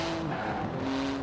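A 3.8-litre twin-turbo flat-six, 700-horsepower carbon-fibre car in the video game Forza Horizon 4, a steady loud engine drone with tire squeal, brief and continuous.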